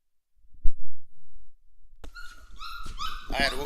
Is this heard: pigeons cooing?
no